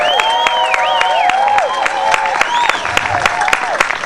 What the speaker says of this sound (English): What's a crowd applause on that for number 10, the girl in the cage.